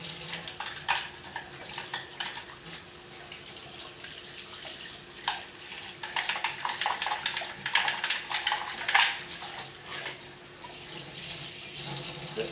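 Water runs steadily from a kitchen tap as parts of an Oscar Pro juicer are rinsed beneath it, with splashing and clatter as the pieces are handled in the sink.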